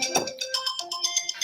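An incoming-call phone ringtone plays a short repeating electronic melody of bright tonal beeps, fairly close and clear, with no talk over it.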